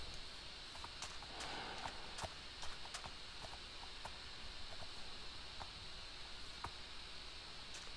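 Horse hooves clip-clop in Minecraft, faint irregular hollow clicks over a steady hiss of background noise, with no talk over them.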